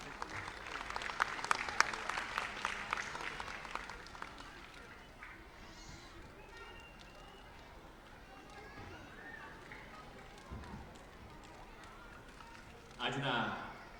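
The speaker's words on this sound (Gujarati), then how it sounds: "આવો તાળીઓના આદર સાથે આવકારીએ" Audience applause welcoming a state minister at the closing ceremony of a police-organised summer camp, louder clapping over the first few seconds that thins out into a quieter room, with a short burst of noise near the end.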